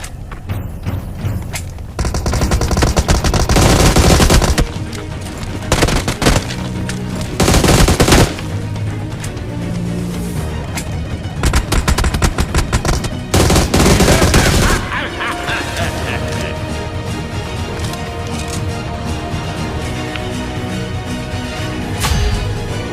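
Sustained gunfire in a battle royale video game, loud and close, with bursts of automatic fire, single shots and booms throughout, tapering into quieter background game noise toward the end.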